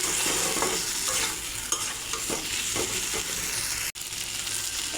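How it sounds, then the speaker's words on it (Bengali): Phasa fish curry with mustard paste and potatoes sautéing in a pan, a steady close sizzle with a stirring spoon scraping and knocking now and then. "এবার ভালো করে কষিয়ে নেব।"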